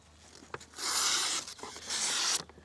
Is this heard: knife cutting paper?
yes